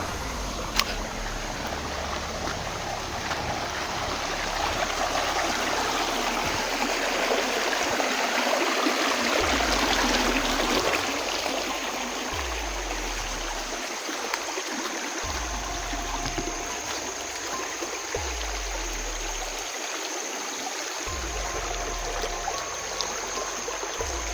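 Creek water flows steadily, close by and alone, as a continuous broad rushing and trickling wash.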